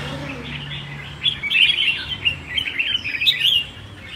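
A coffee bird (chim cà phê), a competition songbird, sings a lively run of bright chirps and warbling phrases from mid-clip onward, fairly close over a faint low background hum.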